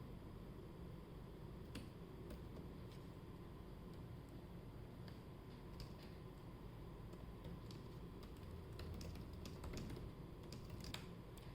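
Code is typed on a computer keyboard for a Raspberry Pi Pico C/C++ project: quick, irregular bursts of close key clicks with short pauses, over a steady background hiss.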